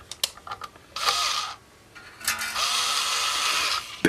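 An electric screwdriver spins up twice as a guitar string winder, giving two bursts of high whirring. A few sharp clicks and taps come before it, and a short quiet gap separates the runs.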